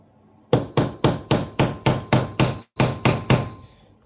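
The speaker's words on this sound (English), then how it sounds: "we're just going to set our rivet tool in it. Make sure we're set. Take a hammer." An old hammer strikes a rivet tool about a dozen times in a steady rhythm while riveting webbing onto a WWII M1 helmet, each blow a loud, close, sharp metallic knock with a short pause near the end.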